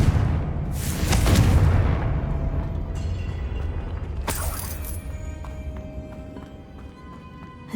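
A Confringo blasting spell goes off in Hogwarts Legacy, a loud booming explosion with a rumbling tail and a second sharp blast a few seconds later, over game ambience and no talk.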